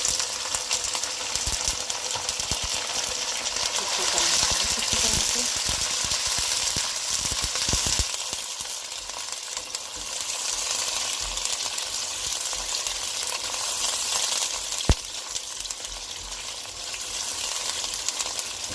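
Blended tomatoes hit a hot pan over ginger garlic paste and chopped ginger while making fish karahi, giving a steady, close sizzle and frying hiss that runs throughout, with faint stirring clatter and no talk.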